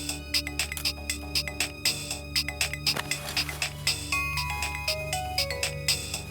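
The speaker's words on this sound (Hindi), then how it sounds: "उसकी माँ ने कॉल किया है।" A mobile phone plays a bright, rhythmic electronic ringtone with repeated chiming pulses and a melodic run, ringing steadily and fairly close, with no voices over it.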